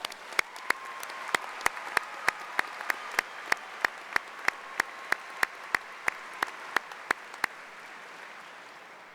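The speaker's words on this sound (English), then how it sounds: "How about another round of applause?" Evenly spaced sharp claps ring out at a slow, regular pace, about two or three per second, over a faint background hum before stopping, at a university commencement ceremony.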